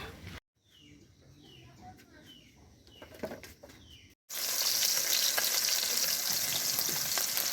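Bata fish cooking in a wok, meant for a dish with stalks and ridge gourd, bursts into a loud, steady sizzle about halfway through after a quieter stretch of faint background sounds, and keeps frying to the end.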